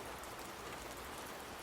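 Rain falls outdoors in an audio drama scene, a steady, close hiss of dense drops with no voices.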